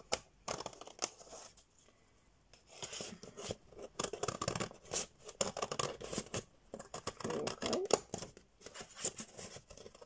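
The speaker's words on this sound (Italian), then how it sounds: "Soprattutto con queste forbici giganti, però non ne avevo assolutamente altre." Giant scissors slicing through stiff, hard cardboard while making a handmade Valentine's card, heard as repeated close, crisp crunching snips in irregular bursts with short pauses.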